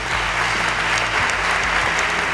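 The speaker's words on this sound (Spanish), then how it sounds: "voy a pedir por favor un fuerte aplauso para todos." An audience at a film festival in Madrid applauds, a dense, steady wash of clapping that carries evenly through the whole short stretch, close and fairly loud.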